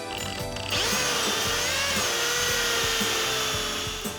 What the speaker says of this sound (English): a simple hole saw will be required to neatly cut out the hole for each deck light